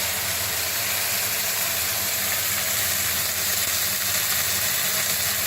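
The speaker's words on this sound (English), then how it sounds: "flash fry, turn them over. Two beautiful steaks like that." Beef steaks, hung for 31 days, flash frying in a hot pan, giving a steady, loud, unbroken sizzle that holds evenly throughout, with no voices.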